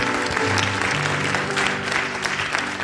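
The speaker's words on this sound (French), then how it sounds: "Bonne main d'applaudissement pour le Seigneur ce matin" A church congregation at a Sunday morning service applauds, a full, sustained round of clapping with some voices and background tones mixed in, fairly close and steady.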